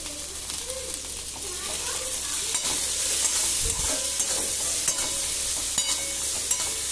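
Mixed vegetables seasoned with red chilli, turmeric and salt frying and being stirred in a pan, a continuous bright sizzle with intermittent spatula scrapes and taps, close and fairly loud, with a voice talking briefly over it.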